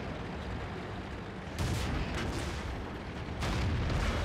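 Heavy tank cannon shots boom in the World of Tanks battle on the El Halluf map, two deep blasts about two seconds apart that each leave a broad rumbling roar over constant engine noise.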